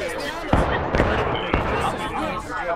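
Musket volleys crack out in a War of Rights battle, several sharp shots at uneven intervals amid a noisy crowd of soldiers, with someone shouting orders.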